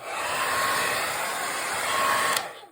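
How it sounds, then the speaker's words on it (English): A hair dryer drying acrylic paint on a canvas blows with a constant whooshing whir, running loud and close, then cuts off abruptly just before the end. "I'm going to pull out my handy dandy pink hair dryer and I'm going to dry it"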